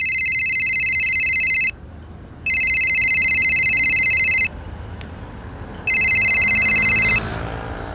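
A telephone rings in three long electronic bursts separated by short pauses, loud and close, with a quiet room behind it.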